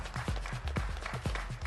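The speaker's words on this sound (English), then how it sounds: "We can have a loud round of applause for all the panelists once." Audience at a coffee industry panel event claps for the panelists, a faint, fairly sparse patter of hand claps with audible individual slaps.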